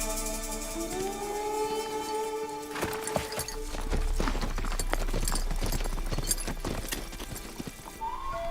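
Horses' hooves clip-clop in an irregular, fairly close patter, with a whinny and tonal siren-like sounds layered over a steady low rumble.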